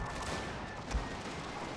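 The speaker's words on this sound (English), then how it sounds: "A lot of gunfire is going in here." Massed musket and cannon gunfire from a strategy game battle between Prussian and Russian forces, a dense, faint crackle with one heavier thump midway.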